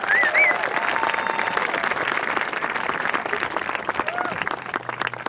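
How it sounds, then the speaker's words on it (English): A graduation-ceremony audience gives a sustained round of applause after an orchestra performance, dense steady clapping with a few whoops, moderately loud and without speech. "Can we get another round of applause for that beautiful arrangement?"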